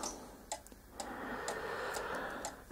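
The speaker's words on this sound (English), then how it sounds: "Something to be said for cuckoo clocks." A cuckoo clock ticks at an even pace of about two beats per second, crisp and close, over a soft background hum.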